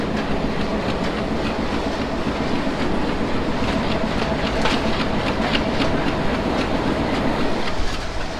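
The Nakshikantha commuter train runs at night from Khulna toward Dhaka, a steady, loud roar of wheels with rhythmic clickety-clack on the rails and no voices.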